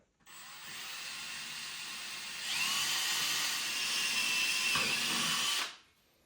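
A power drill bores a hole in an overhead cubby fascia in a VW T6 van, running steadily for several seconds, then climbing to a louder, harsher whir as it bites through before stopping abruptly.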